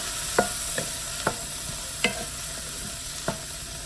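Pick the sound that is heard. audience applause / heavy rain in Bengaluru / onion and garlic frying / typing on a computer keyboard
onion and garlic frying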